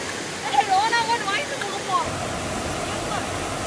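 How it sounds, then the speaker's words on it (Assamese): Sirki waterfall in the hills of Arunachal Pradesh roars as a steady, broad rush of falling water, with a voice speaking briefly over it at the start. "এইটো চিৰিকি জলপ্ৰপাতৰ ঢেকীয়া পাহাৰৰ"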